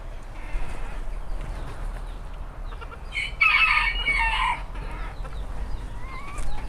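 Small ornamental bantam chickens cluck and give a short, high crow, close by over a steady low background rumble.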